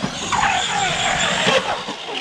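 An Arrma Big Rock or Granite or Senton RC truck fitted with M2C Racing 17mm hex adapters runs at full throttle, a loud whining motor with shifting pitch and tire scrub, close and continuous, with a voice faintly in the background.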